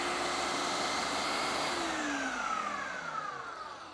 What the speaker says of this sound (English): So we'll get it on, turn it on, and now we'll let this puree.